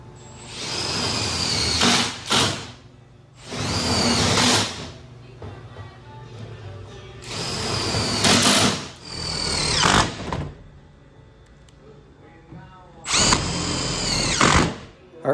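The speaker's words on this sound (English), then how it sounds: "So let's start screwing this stuff down." A power drill driving screws through aluminum exterior trim on a new car hauler, four loud whirring bursts of a couple of seconds each separated by quieter pauses.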